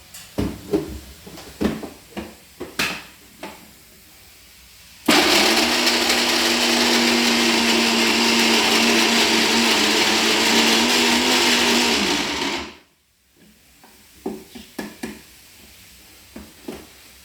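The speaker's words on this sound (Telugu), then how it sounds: "ఇవన్నీ మనము మిక్సీ పడదామండి" A mixer grinder whirs loudly and steadily for about seven seconds while grinding ingredients for bitter gourd powder, including garlic, framed by scattered clicks and knocks of handling the jar before and after.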